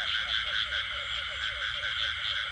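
Frogs croak in a dense, continuous chorus at night by a wall in the Mekong Delta countryside, a steady layered calling that stays loud and unbroken throughout.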